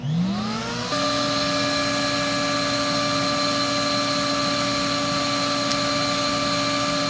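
Numatic Henry NRV 200 vacuum cleaner motor spinning up on its low setting, then holding a steady, close whirring drone with a clear tonal whine and no talking.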